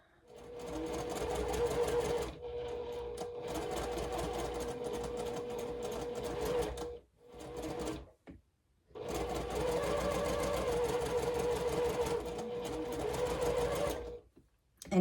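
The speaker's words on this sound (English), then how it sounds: "So I'll go ahead and sew one of these on." A sewing machine stitches quilt block pieces in steady bursts of rapid, even whirring, stopping briefly around the middle before running again, close and clear.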